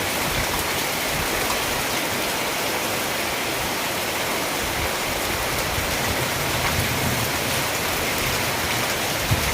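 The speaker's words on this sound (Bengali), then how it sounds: "প্রচুর হাওয়া দিচ্ছে এবং বৃষ্টি পড়ছে" Heavy rain pouring down in Dhupguri amid strong wind, a dense, constant roar of rainfall on surfaces, loud and unbroken throughout.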